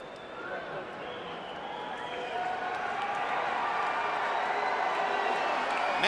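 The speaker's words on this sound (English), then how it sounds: "Mexican fans booing Pacquiao as he stands up on the ropes to celebrate" Crowd of boxing fans booing in an arena during the Manny Pacquiao vs Marco Antonio Barrera rematch, a broad sustained roar of many voices that swells steadily louder and stays continuous throughout, with a commentator talking over it.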